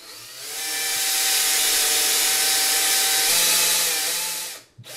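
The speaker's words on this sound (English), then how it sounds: "use the cutter to actually trim the case to length" A Giraud powered case trimmer whirs up to a steady high-pitched buzz as it trims a brass cartridge case, running loud and close for about four seconds before winding down and stopping.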